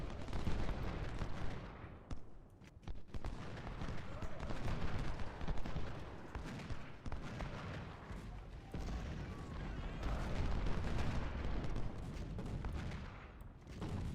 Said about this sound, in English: Artillery will be supporting and bombarding the city.